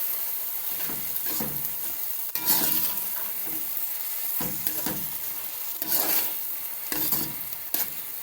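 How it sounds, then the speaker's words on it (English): Mixed vegetables are stirred into macaroni frying in a pan, with a constant close sizzle and bursts of scraping spoon strokes recurring every second or two; nobody talks. "I'm going to add some mixed vegetable. Stir it in."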